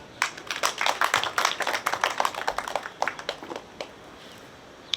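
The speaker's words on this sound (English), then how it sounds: "We clap for those people who really have given us the chance to achieve this." An audience claps at a graduation ceremony: a burst of close hand claps at an uneven rhythm that thins out over a few seconds into scattered single claps, with no voices over it.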